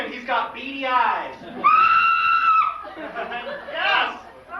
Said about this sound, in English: Let's hear that scream